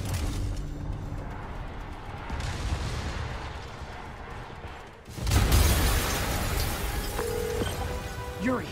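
A deep explosion in Spider-Man on PS4 booms out of ongoing game noise, rising suddenly to a loud roar and then rumbling on with scattered crackle and debris.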